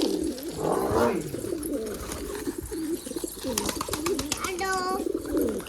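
Pigeons cooing indoors in a house, repeated low throaty coos close by, with a person talking over them and a few brief higher chirps toward the end.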